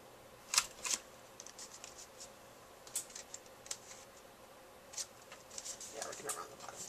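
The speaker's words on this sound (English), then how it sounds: "I think I actually just want to do one more thing, which is round the corners of this card." A handheld corner-rounding punch bites through the bottom corners of a chalkboard-style paper Valentine's Day card: a few faint, crisp clicks and snaps, spaced apart, close by in a quiet room.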